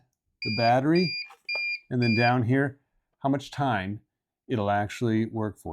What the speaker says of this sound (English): That beeping sound you hear is the sound it makes when it is on battery power.